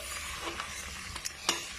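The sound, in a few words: onions, ginger and garlic frying in oil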